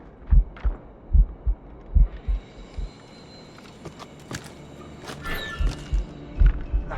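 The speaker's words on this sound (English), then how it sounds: "Keeps my heart beating." A slow, heavy poisoned heartbeat from the Assassin's Creed Rogue video game thumps in regular double beats, fading briefly midway before returning under a low rumbling game ambience.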